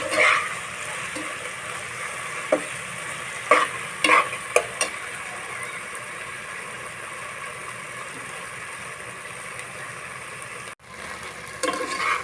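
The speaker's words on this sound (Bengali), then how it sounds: "এটা আমি দুই তিন মিনিট ভালোভাবে ভেজে নিব" Okra with tomato and ground roasted cumin fries in a pan, a steady close sizzle with a few scrapes and clinks of stirring, dipping briefly near the end before resuming.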